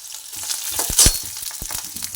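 Green chilies fry in hot oil with a steady crackling sizzle, broken by sharp spits and pops, one of which stands out clearly at the peak. The sound is close and nobody speaks over it.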